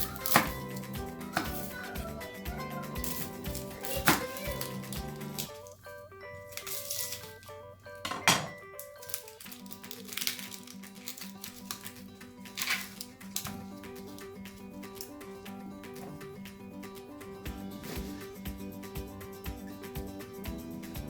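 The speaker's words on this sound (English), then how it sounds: "Then we'll cut our onion." A knife cutting an onion into large pieces for slow-cooker pulled pork, giving a scattered run of quiet clicks and taps on a board, some faster and some spaced out.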